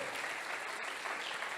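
A church congregation claps together in continuous, dense applause, a full and even roar of hands heard fairly close throughout the short stretch.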